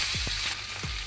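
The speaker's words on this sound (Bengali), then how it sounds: "এবার দিয়ে দেবো বেগুনগুলো।" Eggplant pieces dropped into hot oil seasoned with panch phoron and asafoetida, a brief bright sizzle punctuated by a few low thuds as the pieces land, close and fairly loud.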